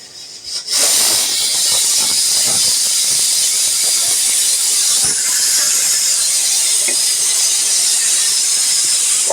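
Continuous loud sizzling hiss of large pieces of ribbonfish coated in spice paste frying in oil in a pan, close and steady with a few faint pops and no voices.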